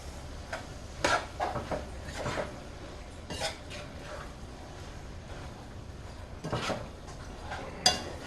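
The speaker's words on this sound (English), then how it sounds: "Now I'm going to go ahead and I'm going to add the sausage. Stir them in." Smoked beef sausage being stirred into spicy charro beans in a pot, with soft intermittent scrapes and clinks of a spoon against the pot at a quiet, close level.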